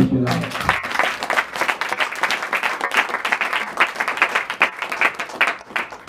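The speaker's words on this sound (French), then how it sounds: "Est-ce qu'on peut acclamer pour ce monsieur-là?" A church assembly claps in sustained, lively applause that starts after a brief voice, dense hand claps continuing steadily to the end.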